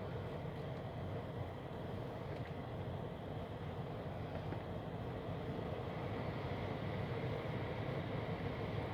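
A 2015 Toyota Sienna 3.5 V6 heater blower fan runs on full blast, producing a steady, broadband whooshing rush of air that stays even throughout, with no talking.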